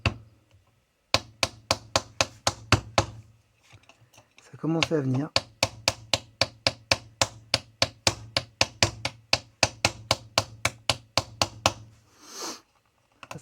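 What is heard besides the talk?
hammer tapping Lambretta 125 LD engine parts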